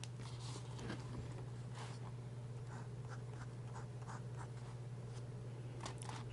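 A fine-nib Fountain Pen Revolution fountain pen writing on paper, repeated light scratchy strokes over a steady low hum, no talking.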